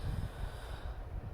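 A dog gives short honking, snorting coughs, a quick run of rough nasal blasts heard close and fairly quiet with no voices.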